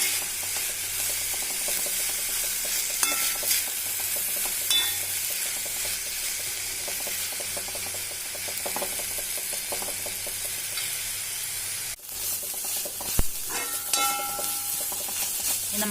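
Drumstick leaves stir-fried in a pan, a steady sizzle with repeated scraping and stirring strokes close by, occasional sharper clicks of the spatula against the pan, no voices.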